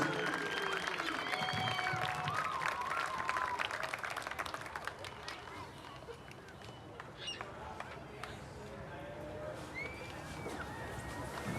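Crowd applause fills a high school gym on girls' basketball senior night, Portage vs Chesterton, honoring the graduating seniors: a steady, dense wash of clapping with scattered shoe squeaks and voices mixed in.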